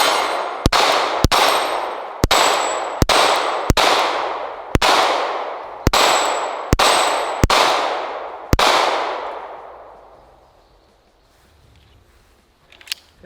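Eleven sharp pistol shots from a compact Glock 43X or Sig P365 handgun ring out at an outdoor range, spaced irregularly about a second apart, each loud report trailing into a decaying echo, followed by quiet.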